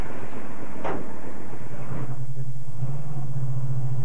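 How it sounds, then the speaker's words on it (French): A Ford Mustang Boss 429's engine settles into a steady, low, droning idle hum after a brief whoosh, loud and close with some wind rumble around it. "le son de ce moteur-là, c'est vraiment exceptionnel"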